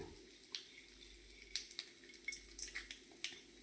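Cloves dropped into hot oil with asafoetida and stirred, a faint sizzle beneath scattered light scraping and clicking of a spoon in the pan.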